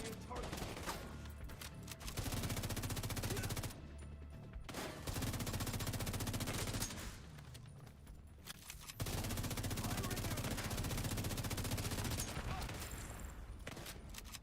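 Heavy automatic gunfire in The Division 2, loud sustained bursts of several seconds each broken by short gaps, with a voice speaking faintly underneath.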